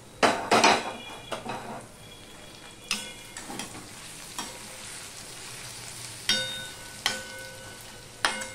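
One tomato and four green chilies go into potatoes frying in a pan, followed by irregular clinks and scrapes of a spatula on metal over a faint background sizzle.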